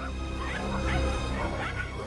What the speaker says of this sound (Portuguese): ouviu o latido de muitos cachorros perto da casa dele